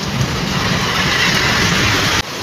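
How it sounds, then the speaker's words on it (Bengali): Heavy rain mixed with hail pounds down in Medinipur town, a dense, loud, unbroken roar that stops abruptly near the end. "মাত্র দশ মিনিট আগে থেকেই বৃষ্টি শুরু হয়েছে সাথে শিলাবৃষ্টি"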